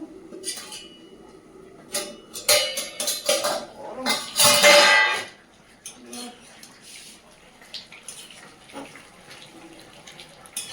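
Clattering of a pot lid being lifted off simmering curry on a home kitchen stove, a bright burst of metal-on-metal clinks and scrapes, then quieter handling noises and faint kitchen sounds.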